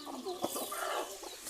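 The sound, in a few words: chickens clucking in coop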